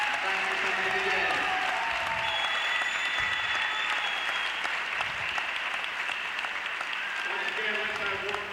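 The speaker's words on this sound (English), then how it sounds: "let's have one big round of applause for the senior cheerleaders and basketball players in this game" A crowd at a 1999 high school boys basketball game applauds senior cheerleaders and players, a steady dense wash of clapping in a gym with some crowd noise and faint voices underneath throughout.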